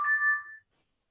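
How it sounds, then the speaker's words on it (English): A live chat notification chime on a website monitoring page, heard as a single short electronic tone, clear and close, that fades out within about half a second and is followed by silence. "That sound is to tell you that somebody is trying to chat up with you."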